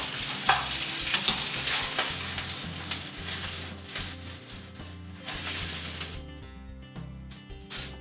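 Veal chops searing in a hot pan, a close, steady sizzle and crackle of frying meat with bursts of spitting fat, easing off toward the end.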